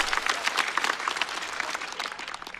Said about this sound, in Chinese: 再次掌声送给海波。